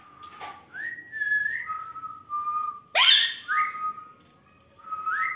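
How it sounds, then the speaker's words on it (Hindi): A person whistles to a pet parrot indoors, producing clear, close, melodic notes in short rising and gliding phrases separated by brief pauses. "सीटी मार"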